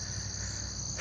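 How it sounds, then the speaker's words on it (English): Frogs calling at a Florida pond at night: a steady, high-pitched, insect-like trilling chorus runs continuously at moderate distance, with no voices, ending in a brief louder rustle. "there's all those frogs calling"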